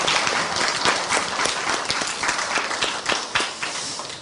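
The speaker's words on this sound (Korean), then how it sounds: "감사의 박수 하겠습니다." Steady applause from a chapel congregation at Hanyang University, honoring the choir and orchestra; a dense field of many hands clapping evenly throughout with slight swells, no voices over it.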